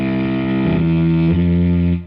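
A software cello patch in a music production app, run through distortion and effects, plays sustained bowed-style notes with a buzzy, harmonically rich tone, shifting pitch twice before fading at the end.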